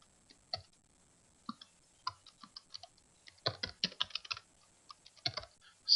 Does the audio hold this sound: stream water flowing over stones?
no